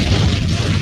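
A loud, low booming explosion effect in a rap track, steady and heavy with no speech over it.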